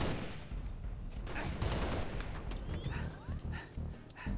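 Sniper rifle and other gunfire in the Halo: Reach video game, with repeated sharp shots and bursts over a dense, loud background of game noise, with no speech over it.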